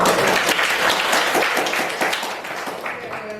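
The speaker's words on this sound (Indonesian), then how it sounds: "kasih tepuk tangan dong" A classroom group applauds a student's answer, lively clapping from many hands that starts strong and gradually tapers off, with some voices mixed underneath.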